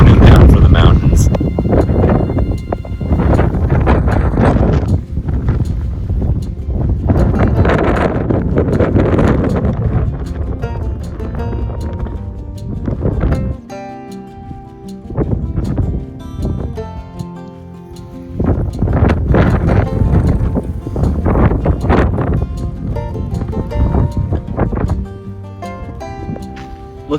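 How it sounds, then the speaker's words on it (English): Gusty wind in the Anza Borrego Desert State Park in the San Diego backcountry buffets the microphone in loud, uneven surges, while someone talks throughout. "it is windy here in the Anza Borrego Desert State Park in the San Diego backcountry"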